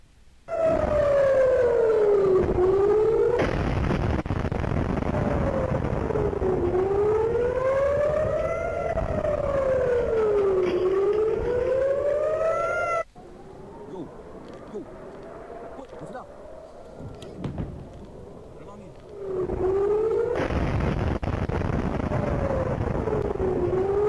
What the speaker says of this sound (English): We also have a siren, so be aware that there's going to be a siren